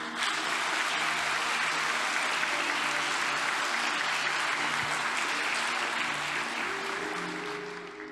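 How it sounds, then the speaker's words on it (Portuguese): Strong, sustained applause fills a church service, a dense wash of many hands clapping steadily at full volume before tapering slightly at the end, with no voices on top. "dá uma forte aplauso aí"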